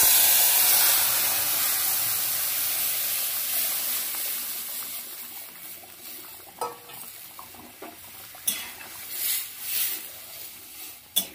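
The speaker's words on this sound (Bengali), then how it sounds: "সেদ্ধ করা ডালটাকে এবার এর মধ্যে দিয়ে দেব।" Boiled lentils poured into hot oil in a kadai give a loud, hissing sizzle that slowly fades, followed by scattered clinks and scrapes of a spoon stirring the dal, close up with no talk.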